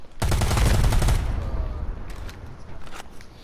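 A net gun fires in Predator: Hunting Grounds with a sharp, loud burst that rumbles and decays over about a second, followed by scattered fainter clicks and bangs.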